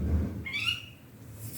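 A single short bird chirp trills briefly over a faint low household hum, quiet and somewhat distant.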